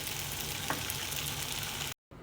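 Potatoes, tomatoes and egg fry in a pan for noodles with a steady, close sizzle that holds level for about two seconds before cutting off abruptly, with no voices.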